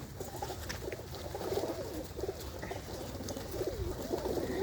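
Pigeons kept in a loft coo in soft, repeated low calls over a steady background hum, fairly quiet and close, with no talking.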